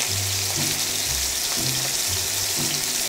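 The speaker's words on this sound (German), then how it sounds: "Und ungefähr 1 Minute auf der Hautseite kurz anbraten." A Barbary duck breast sizzles skin side down in a hot pan, a loud continuous frying hiss with faint low knocks beneath and no talking.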